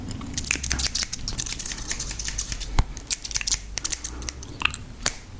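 Close, quiet scissor snips cut repeatedly in an irregular rhythm of crisp clicks and crunches, heard alone in an otherwise hushed setting.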